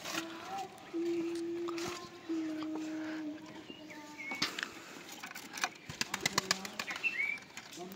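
Pigeons in a dilapidated coop, some sitting on eggs, give soft, sustained coos near at hand, followed by a flurry of wing flaps and scratchy clatter, with a voice speaking in the background.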